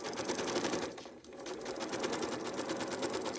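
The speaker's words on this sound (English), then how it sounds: "There's no reason to backstitch, just sew on the line." A sewing machine runs steadily, stitching along the printed line of a foundation paper-piecing quilt block, a continuous fast mechanical whir with a brief dip in pace partway through, close and alone without talk.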